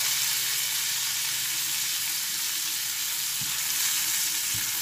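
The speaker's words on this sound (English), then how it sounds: "We want to fry the capers in the garlic and butter a little bit before we continue." Capers fry in garlic and butter in a pan, giving a loud, continuous, steady hiss of sizzling up close, with a couple of faint low knocks and no voices.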